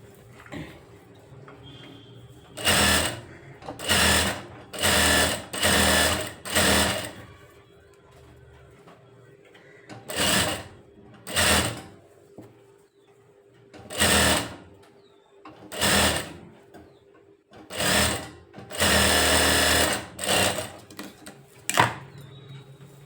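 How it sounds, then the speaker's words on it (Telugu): A sewing machine stitches a blouse lining in repeated loud, close bursts of rapid whirring, each lasting a second or two and separated by quiet pauses with a faint hum. "కరెక్ట్గా కుట్టుకొచ్చేయాలి"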